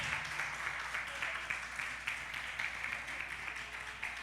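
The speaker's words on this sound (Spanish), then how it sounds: "Otro fuerte aplauso, por favor, a todos los papás." A church congregation gives the fathers another round of applause, a fairly quiet, even wash of clapping that holds steady for a few seconds.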